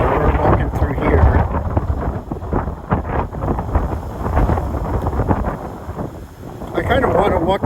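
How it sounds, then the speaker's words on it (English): Gusty wind blows hard across the microphone outdoors, a continuous buffeting roar that swells and eases, with a person talking underneath it. "the gusts are picking up"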